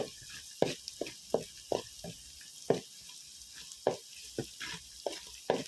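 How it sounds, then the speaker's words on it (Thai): Pounded chilies and garlic stir-fried in a pan for Thai basil meatball stir-fry, heard as repeated sharp scraping and clinking strokes of a spatula at an uneven rhythm over a faint background sizzle, close and moderately loud, no talking. "แล้วก็ผัดพริกไปเรื่อยๆนะคะ"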